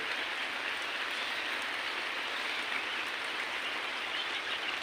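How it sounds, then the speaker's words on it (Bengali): Heavy rain falls outside during bad weather while ducklings are kept under brooding, a steady, dense hiss that holds at an even level throughout with no pauses and no voices. "বাইরে প্রচুর বৃষ্টি হচ্ছে"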